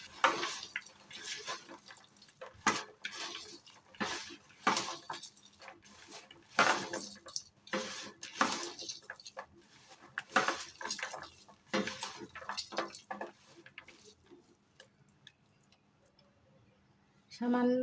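Chela and maya fish worked with turmeric by hand in a metal bowl, giving repeated wet squelches and clinks of the bowl in an irregular rhythm, close by, fading to quiet near the end.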